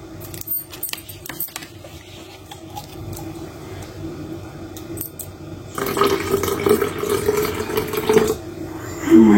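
Water is poured into a blender holding ginger and citrus, a splashing rush that swells loudly in the second half after quieter clinking and handling sounds.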